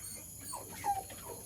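A dog whines softly, a few thin, high whimpering notes close by over faint background hum.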